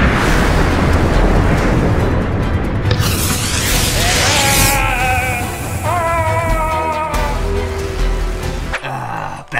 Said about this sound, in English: Seems like your mountain's about to explode!